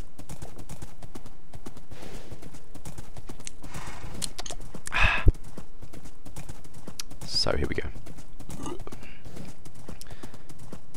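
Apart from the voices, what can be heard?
horse hooves clip-clopping in a video game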